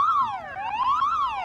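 A rising and falling electronic alarm siren wails loudly in a bunker, its pitch sweeping down and back up in a steady cycle with bright harmonics, close and alone.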